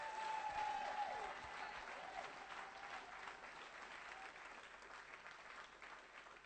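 Church congregation applauding in praise of the Lord, a steady wash of clapping filling the room, fairly distant and even, with a brief high tone near the start.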